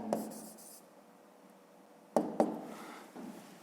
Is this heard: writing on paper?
yes